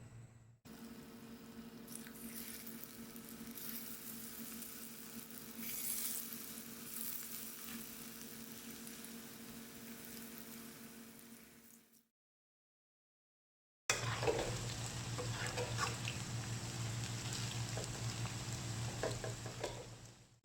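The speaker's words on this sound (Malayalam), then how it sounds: "ഇനി നമുക്ക് എണ്ണയിൽ വറുത്തെടുക്കാം." Cauliflower pieces deep-frying in hot oil, a steady close sizzle with crackling bursts that cuts out briefly, then returns with the same bubbling hiss.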